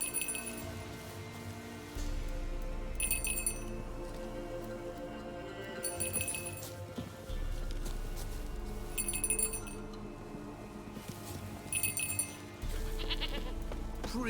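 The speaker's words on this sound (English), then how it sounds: "Goat of mine, dearest, sweetest goat." Goat bleating inside The Witcher 3, several repeated bleats at regular intervals over a steady bed of rain and low ambient game sound, with no talking.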